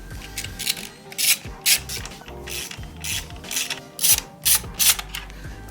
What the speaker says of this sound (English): So just go ahead and remove this bolt, and this bolt, and we can take out the casing.